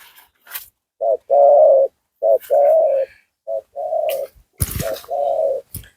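A spotted dove coos close by in repeated soft, hooting phrases with short pauses between them, and a few brief rustles in the background.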